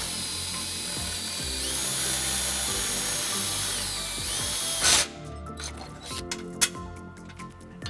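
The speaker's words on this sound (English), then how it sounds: "We're just going to drill the first hole using a 3/16 drill bit." A drill with a 3/16 bit hums steadily at first, then rattles and chatters as it cuts a hole in a 2014 Nissan Xterra, ending in uneven mechanical clicks and knocks.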